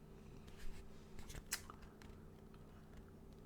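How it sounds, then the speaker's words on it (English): Wintergreen Lifesavers hard candies being munched, giving a few faint, scattered crunches over a quiet room with a steady low hum. "I'm sorry if I make noise munching."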